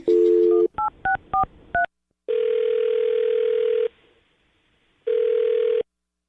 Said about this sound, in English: I'm going to dial his phone number right now and see if we can talk to him